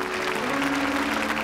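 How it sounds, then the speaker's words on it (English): A church congregation claps together in a dense, continuous wash of applause, loud and sustained throughout with no pauses. "Give the Lord a hand clap."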